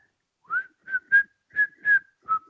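A person whistles in imitation of a goblin backing away during a tabletop Dungeons and Dragons session: six short, clear whistled notes in an uneven, jaunty rhythm, close and alone.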